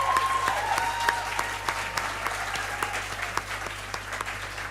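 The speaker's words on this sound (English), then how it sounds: "It would be great if we could provide a round of applause for this wonderful and amazing people" Sustained audience applause at an academic awards ceremony honouring nominees, even, thick clapping from a large crowd that continues throughout with some louder individual claps.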